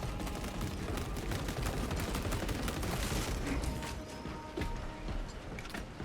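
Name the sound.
grenade launcher firing in Space Marine 2 video game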